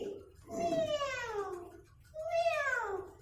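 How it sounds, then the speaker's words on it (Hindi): A cat gives two drawn-out meows, close and fairly loud, the first longer than the second, with a short gap between them and no talking. "जो म्याऊ म्याऊ करके आपके घर का सारा दूध पी जाती है"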